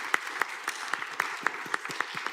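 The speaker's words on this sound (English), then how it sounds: "let's give yourselves a round of applause." An audience at a conference talk claps to close a session, with steady, evenly spaced claps that sound fairly sparse and close, with no voices over them.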